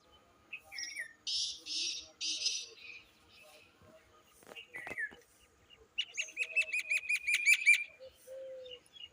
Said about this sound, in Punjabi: ਪੰਛੀਆਂ ਦੀ ਆਵਾਜ਼ ਸੁਣੋ ਕਿੰਨੀ ਸੋਹਣੀ ਹੈ